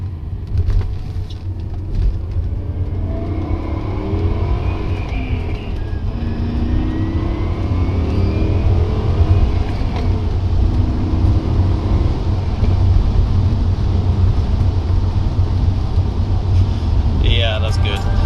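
A BMW 535i with an Alpina-spec V8 accelerates on the road, its engine note rising and swelling over a steady low rumble with a faint whine, while someone talks over it from inside the car.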